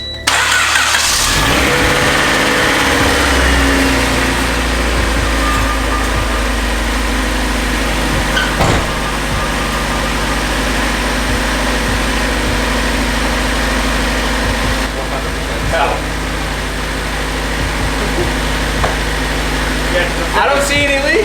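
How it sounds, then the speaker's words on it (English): A turbocharged Honda Civic with an inexpensive eBay turbo kit fires up for the first time and settles into a steady, loud idle that runs throughout, with voices talking over the engine. "But this is the first start of the Civic Turbo."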